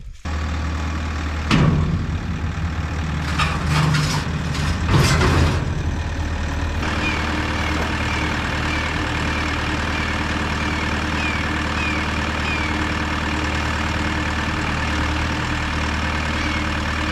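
A forklift engine idles steadily and loudly while lifting a Wacker RD25 compactor, with a few clanks and rises in the first seconds, then a constant drone.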